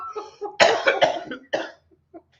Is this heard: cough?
yes